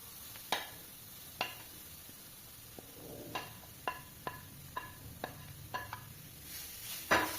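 Grated amla frying on a hot tawa for pickle makes a faint, quiet sizzle. About a dozen sharp, scattered clinks and taps of a utensil against the pan punctuate it.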